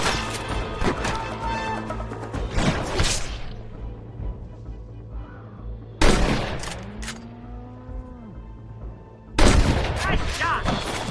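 Loud gunshots ring out in the western video game Red Dead Redemption, sharp cracks in separate bursts with long echoing tails, close and punchy amid game chatter.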